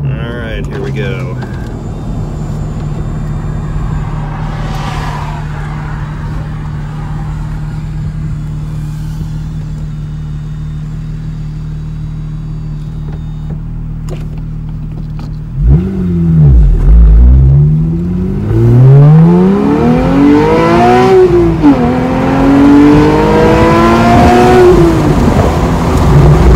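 A Porsche 911 fitted with an IDP plenum and driven with the top down holds a steady drone, then accelerates hard to redline. The engine note sweeps up and shifts in rising arcs. Loud wind and cabin noise sit under talk.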